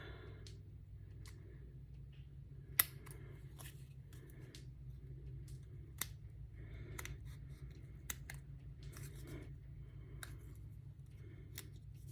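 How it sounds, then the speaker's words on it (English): Scissors snip through a piece of pink paper for a handmade card, giving a close series of crisp, spaced cuts over a low steady background hum. "I'm gonna cut out a piece of pink to go up the side"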